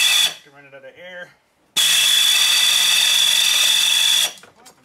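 A power drill bites into metal, drilling out a part on a homemade backhoe bucket setup for a 110 loader. A brief stuttering burst comes first, then after a pause a loud, steady, high-pitched grinding run of about two and a half seconds.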